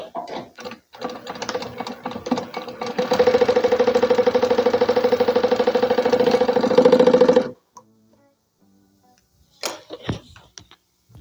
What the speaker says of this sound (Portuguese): E vou passar uma costura daqui pra cá, deixando essas partes abertas pra desvirar depois.